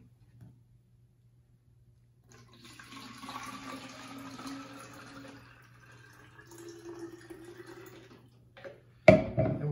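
Two cups of warm water pour into a container for a homemade window and glass cleaner, a faint, steady trickle lasting several seconds, followed by a sharp knock.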